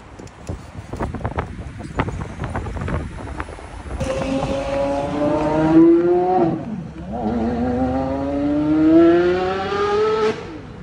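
A Mirage GT hypercar's engine rises in two long rising revs after some rumbling street noise, loud and close on a London street.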